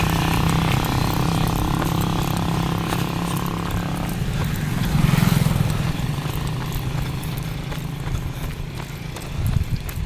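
Cars and motorcycles passing on a road heard from the roadside during a jog, a continuous broadband traffic roar that swells as a vehicle goes by midway and again near the end.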